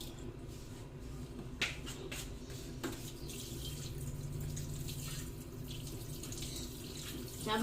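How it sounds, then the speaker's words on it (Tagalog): Steady running water pours into a pot, a continuous splashing rush with a couple of brief clinks near the start, no voices. "Siyempre, lalagyan natin ng tubig"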